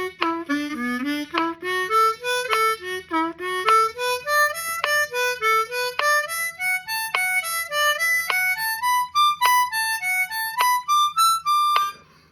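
Blues harmonica playing a scale with accents on the and beats, clear single notes stepping upward in an even, regular rhythm, each tone short and separated, over a faint steady low hum.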